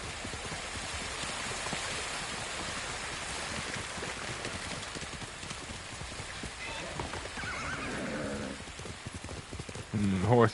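Horse in Ghost of Tsushima, with hooves clip-clopping steadily under falling rain and a whinny near the end, while a person talks over it.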